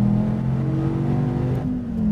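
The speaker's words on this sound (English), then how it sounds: "SRT Viper GTS going down the front straight at Laguna Seca." An SRT Viper GTS with its 8.4 liter V10 roars down the front straight at Laguna Seca, a loud, close, steady engine drone with rising pitch and a brief dip as it shifts.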